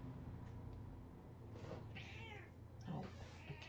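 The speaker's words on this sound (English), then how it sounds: "Oh, a cat." A cat meows in the game Slay the Princess, a couple of drawn-out, wavering cries over a steady low ambient drone, moderately clear and with no speech.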